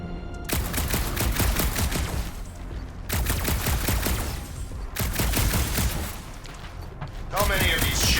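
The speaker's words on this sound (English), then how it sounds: "Just making sure my guns work." Spaceship guns in the Marvel's Guardians of the Galaxy video game fire in three loud bursts of rapid shots, each burst separated by a short pause.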